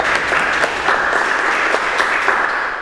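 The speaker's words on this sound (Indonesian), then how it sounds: "Tepuk tangan untuk kita semua ya." Steady applause from a classroom of students during a teacher's professional education performance assessment, dense and continuous clapping at close range with no one speaking.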